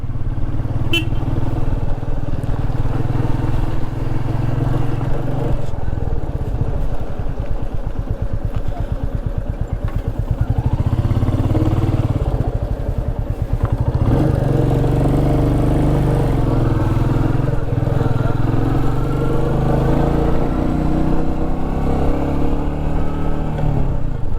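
Royal Enfield Meteor 350 Supernova ridden off-road, its engine a steady loud thump with rattling and shifts in revs throughout, heard close under wind noise with no talk.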